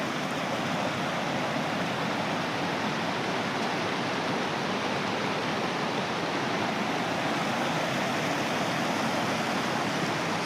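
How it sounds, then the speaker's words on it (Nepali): A large river runs beside a jungle camp of tarpaulin shelters, producing an unbroken, even rushing roar of moving water that stays at a steady level with no speech. "ग्रान्ड नदी पनि छ।"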